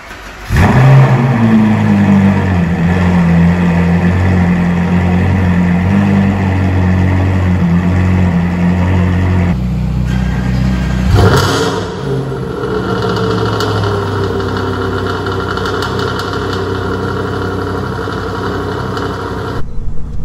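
A car engine drones loudly from inside the cabin while driving toward Monaco, holding a steady note, then dropping and shifting as the load changes partway through, continuous for the whole stretch.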